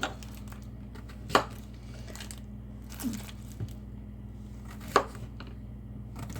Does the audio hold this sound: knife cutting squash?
yes